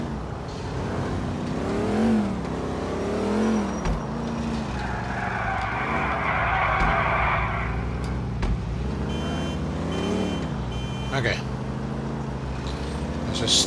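Car engine driving in Grand Theft Auto IV with a damaged rear bumper, a continuous revving drone rising and falling with acceleration, someone talking over it throughout.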